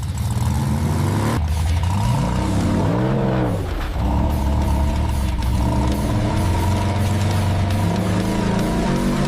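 A truck rolls forward under engine power, a loud, close rumbling drone with shifting tones that rise and fall as it moves, continuous throughout.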